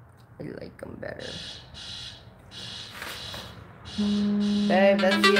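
A household smoke alarm starts up partway through, a loud steady high-pitched beeping tone that continues to the end, following quieter sounds of resin art work on a wooden charcuterie board. A voice speaks over it.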